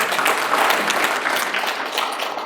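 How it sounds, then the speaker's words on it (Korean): A seated audience at a lecture event claps together, a dense, even burst of applause filling the room for a couple of seconds, fairly close and without speech over it. "박수를 보내주시기 바랍니다."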